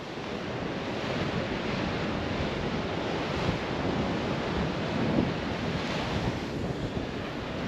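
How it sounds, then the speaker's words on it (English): Ocean waves wash onto the shore in Ibiza under a steady, broad roar of surf mixed with wind buffeting the microphone, with no talking. "It's nowhere near as windy, and the waves have dropped quite considerably."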